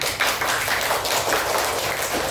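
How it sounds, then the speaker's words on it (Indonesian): Third-grade schoolchildren clapping in a classroom, a close, busy burst of hand claps running steadily for a couple of seconds. "Ayo semangat lagi dong, tepuk tangannya sana."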